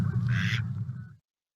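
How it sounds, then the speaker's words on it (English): Geese honk close by in a short burst, the harsh calls overlapping for about a second before cutting off into silence. "here's some geese in the background"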